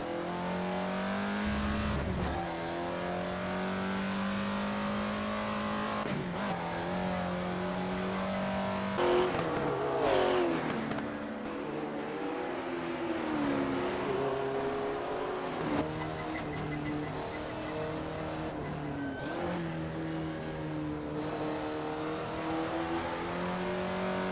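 Several 1955 Jaguar D-Type race cars racing through the Scottish Highlands in Assetto Corsa, engines roaring and droning with rising and falling pitch as they accelerate and shift, one car passing close around ten seconds.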